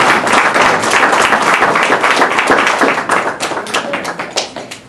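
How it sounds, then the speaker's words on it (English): Audience applause at a reception, dense sustained clapping from a roomful of people, close and loud for several seconds before gradually thinning and fading toward the end. "Let's give her another round of applause."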